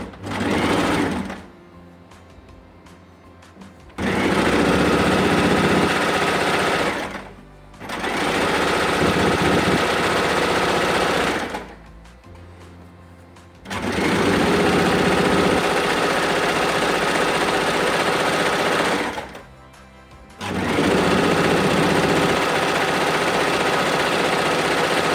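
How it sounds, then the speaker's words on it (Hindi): An electric sewing machine runs in long steady stitching bursts while sewing folded pleats into fabric for a pleated top, loud and close, with short pauses between seams and no talk. "इस तरीके से हम सिलाई लगा रहे हैं।"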